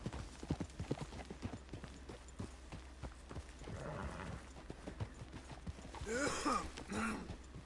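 Horse hooves clip-clop in a steady walking rhythm in the Red Dead Redemption 2 video game, close and clear, with a brief whinny and a snort toward the end.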